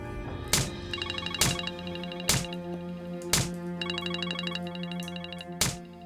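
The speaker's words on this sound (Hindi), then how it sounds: "मैडम का फोन आ रहा है सर।" A phone rings repeatedly, each ring opening with a sharp struck tone and ringing out in a loud, steady musical pattern, with no talking.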